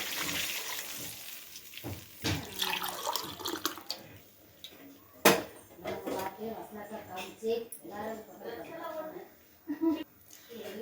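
Milk and water poured into a pan for making milk kesari, a liquid splashing and trickling sound with drips under steady spoken narration.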